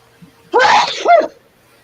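One loud sneeze, close up, with a sharp intake followed by a forceful burst, then silence.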